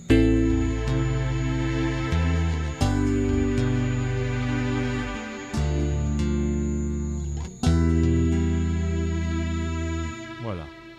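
Deep bass notes on a Chapman Stick in short phrases are layered with sustained synth tones, a few plucked attacks marking each new phrase, close and full.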